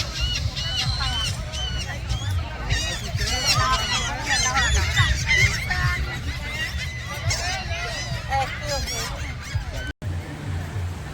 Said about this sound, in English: somebody left some food over there, and the seagulls are going crazy for it